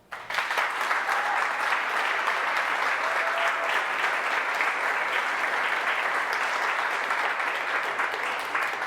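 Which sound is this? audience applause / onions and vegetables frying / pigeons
audience applause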